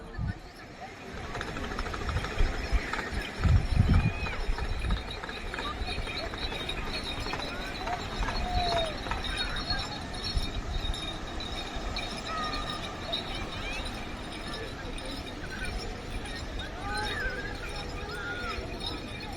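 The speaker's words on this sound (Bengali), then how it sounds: "ঘোড়ার গাড়ি আসছে ছুটে ছুটে।" Horse-drawn carriage hooves clip-clop along a busy seaside stretch at Digha, a steady trotting rhythm mixed into crowd chatter and surf noise, with people talking nearby throughout.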